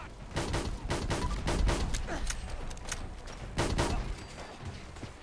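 Smith and Wesson R8 revolver firing in bursts in the video game Fallout 4, a dense run of rapid sharp shots cracking in quick succession, with a brief pause before another cluster of shots.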